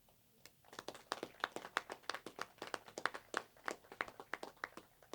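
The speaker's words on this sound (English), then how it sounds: "Let's give a round of applause for our stage sponsor," Light applause from a small audience at a veterans celebration in Carroll County, Maryland: a handful of hands clapping in a quick, uneven rhythm, fairly faint and with no talking.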